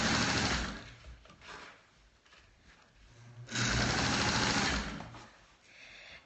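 A sewing machine stitching a wrap-around tulle skirt runs in two loud, close bursts of steady whirring, with a quieter lull between them and a short spurt at the end.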